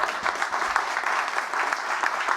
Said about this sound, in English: When you go to the theatre, you have to applaud.